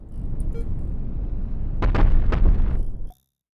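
Cannon swarm weapons firing in a video game ship battle, a dense roar of rapid explosions and bursts that swells into two sharp louder blasts near the end before cutting off abruptly.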